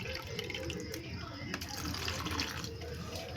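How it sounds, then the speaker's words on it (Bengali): One cup of water poured onto washed sabudana in a bowl, a steady close rush of running liquid that carries on without a break for a few seconds. "এখন আমি 1 কাপ জল দিচ্ছি"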